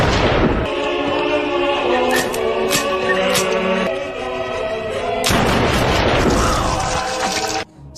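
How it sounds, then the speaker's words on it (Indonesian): A large explosion mixed with gunfire in an action film shootout, with dense booming blasts and sharp cracks layered over a loud sustained roar, plus a fresh burst of impacts partway through. "Setelah itu, sebuah ledakan besar kembali terjadi"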